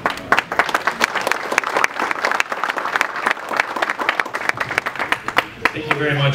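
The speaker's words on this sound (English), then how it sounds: "So give him a round of applause." An audience at a gala event applauds a speaker taking the stage, many hands clapping loudly and densely for several seconds with a few louder individual claps and murmuring voices underneath.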